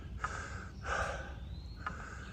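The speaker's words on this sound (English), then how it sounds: "You can tell the way I'm breathing, this is going up." Heavy, labored breaths from a hiker climbing uphill through woods on the Appalachian Trail, a few close gasping inhales and exhales at an uneven pace over steady outdoor background noise, with no talking.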